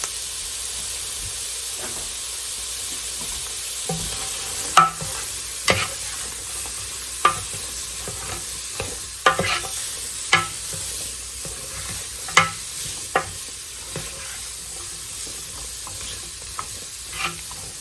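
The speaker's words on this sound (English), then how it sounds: "we're going to saute these up" Onions, carrots and celery sauté in a soup pot, a soft steady sizzle with a dozen sharp clicks and scrapes of stirring scattered throughout.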